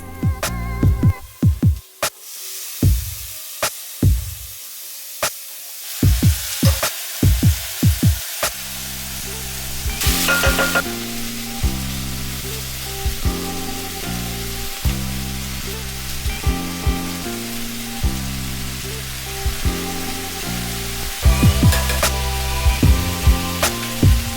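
Vegan taco soup pot sizzling steadily over medium heat as canned ingredients go in, with sharp splashy bursts and clatter early on, then a continuous frying hiss beneath faint background music.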